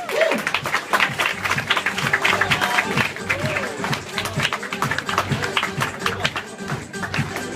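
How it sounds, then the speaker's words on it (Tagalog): A large crowd at a business opportunity event applauds with dense, ongoing clapping and cheering, while an excited host keeps talking over the noise. "At milyong-milyong palakpak! Palakpak!"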